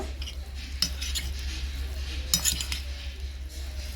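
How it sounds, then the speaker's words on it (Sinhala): Cheese koththu being tossed and mixed with metal utensils, giving scattered light clinks and scrapes, with two sharper clusters of clatter over a steady low background hum. "හොඳට කලවම් කරන්න. හැම කෑල්ලටම වදින්න ඕනේ."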